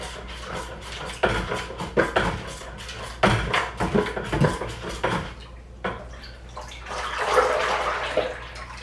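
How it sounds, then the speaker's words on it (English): A spoon stirs honey into water for mead, a steady run of liquid swishes and clinks against the container, close and continuous, with a brief pause before more swirling. "Still getting some honey on the spoon after stirring, so a couple more times around"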